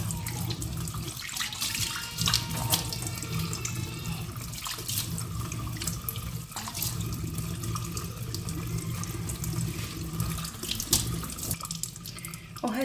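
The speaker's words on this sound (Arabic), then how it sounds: "تعالوا نغسل وجهي" Tap water runs steadily into a sink for someone washing their face, a continuous splashing faucet flow at close range with no talk over it.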